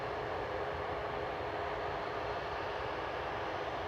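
A Ryanair Boeing 737 MAX 8-200 jet at Manchester Airport gives off a constant, even engine roar, a broad rushing noise held at one level throughout with no talking.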